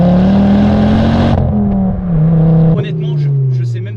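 A Ford Focus RS mk2 accelerates hard in second gear, its engine droning loud and close with a steady rising pitch, then easing after a shift, while someone talks over it.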